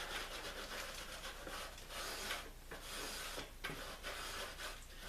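Steady close-up rubbing of a shellac finish on a cedar plank canoe, a continuous dry scuffing texture with brief dips in the stroke, alone with no talking.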